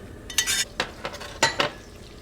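A pan of butter sauce for Vietnamese lobster cooks in a kitchen in Saigon, with brief scraping stirs and light metallic clinks over a soft sizzle, heard close in short irregular bursts.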